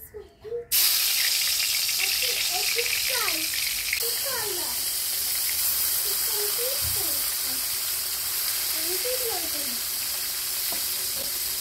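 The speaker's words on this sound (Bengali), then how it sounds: "তো তেলটা আমার গরম হয়ে গেছে, তো আমি এখানে মাছগুলো দিয়ে দিচ্ছি।" Fish frying in hot oil for a fish curry, a loud continuous sizzle that starts abruptly as the fish goes in and holds steady, with faint chirping-like crackles over the hiss.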